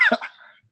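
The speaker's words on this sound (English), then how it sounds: "I want to cough." A single short cough, close and abrupt, trailing off quickly into silence.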